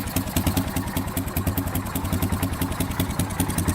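An old Honda ATV in rough shape idles nearby with a steady, fast, pulsing putter that holds an even rhythm throughout.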